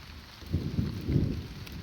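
Heavy rain falls on a newly built farm hut, a soft continuous hiss with a few low rumbling swells, moderately quiet and without voices.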